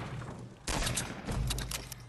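Hand cannon fire in Fortnite Playground cracks out in two loud bursts, each a dense blast that rings briefly before fading, with no talking.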